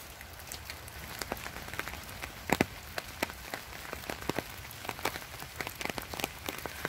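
Heavy rain patters steadily on a surface near a tool shed and ponds, with scattered louder drips and taps over a soft continuous hiss.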